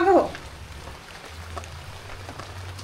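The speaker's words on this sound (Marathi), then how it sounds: "हा बघा पाऊस" Rain falls at a village house in the Konkan region as a steady, soft hiss, with a brief voice at the very start.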